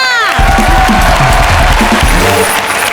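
A studio audience at a live comedy game show breaks into loud applause, with dense clapping, cheers and whoops filling the room.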